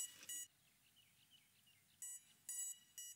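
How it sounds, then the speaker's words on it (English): An FPV drone emits several bright, high electronic beeps in short bursts, a quick pair at the start and then three more near the end, with a quiet hum between them. "it started repeatedly beeping"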